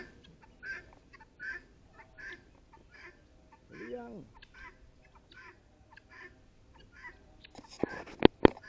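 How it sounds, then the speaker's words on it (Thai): Chickens cluck and chatter softly in short repeated bursts, with a low voice sound in the middle and a few sharp knocks near the end; ducks are nearby. "ไก่ กุ๊กกุ๊ก กุ๊กกุ๊กกุ๊กกุ๊กกุ๊กกุ๊ก"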